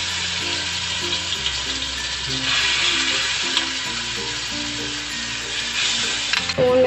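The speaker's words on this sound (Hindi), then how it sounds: "अब इसके अंदर मैं अपनी मैरिनेट हुई हुई चिकन को कुक कर लूँगी" Marinated chicken sizzles in olive oil in a pan, a steady close frying hiss with faint stirring and clinks throughout.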